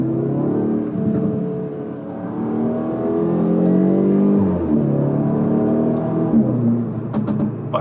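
A 213 kW 8Y Audi S3 accelerates while being driven, its engine note rising and falling through the gears as a close, steady, loud drone heard from inside the cabin, with no talking.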